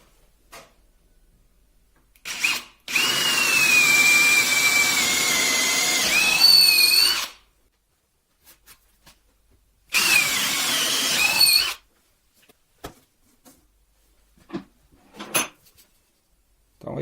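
DeWalt power drill boring into wood, two loud close bursts of high-pitched whining spin, one about four seconds long and a shorter second run, separated by silence and a few small clicks.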